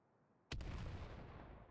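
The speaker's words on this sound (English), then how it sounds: "Nades coming in." Grenades explode in a competitive online shooter match, a single sharp blast after a moment of quiet that booms into a rolling, fading rumble.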